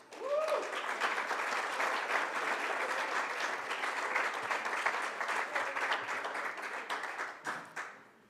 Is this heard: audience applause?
yes